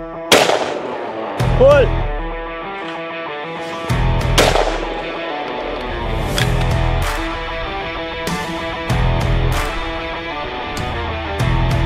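Repeated loud shotgun blasts from a 6.88 fired at clay pigeons outdoors, sharp reports spaced a second or two apart with ringing decay, a voice shouting a name between shots.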